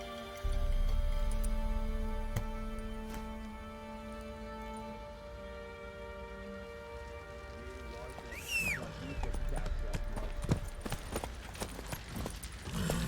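Roach, the horse in The Witcher 3, trotting with a steady clip-clop of hooves under a constant hum of game music and ambience, followed by a brief whinny-like sound and a flurry of sharper hoof clicks toward the end.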